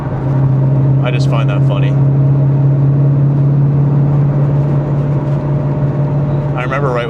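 A 2014 Ford Mustang GT/CS with an aftermarket exhaust drones steadily and loudly while driving in the rain, heard from inside the car under a speaking voice.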